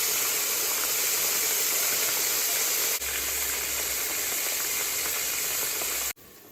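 Oyster mushrooms fry in a pan, browning toward golden, a steady close broadband sizzle with no talk, softening and briefly cutting out near the end.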